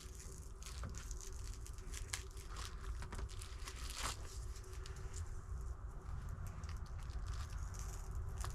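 Scissors snip through sticky, gummy material during camper cold-weather prep, giving a close, steady run of tearing, crinkling cuts with faint tacky pulls between them.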